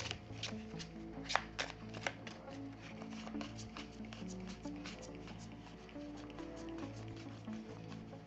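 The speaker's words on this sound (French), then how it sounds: "Alors je bats juste un petit peu les cartes." Tarot cards are shuffled by hand up close, with soft, rapid riffling and sharper slaps repeating irregularly under a faint background hum.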